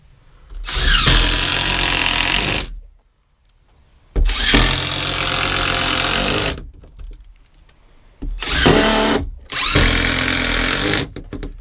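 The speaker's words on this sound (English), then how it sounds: "we'll just run a bunch of screws in" A power drill drives a run of screws into a wooden door for a cat enclosure, in three loud, sustained bursts of whirring with short pauses between them and no talking.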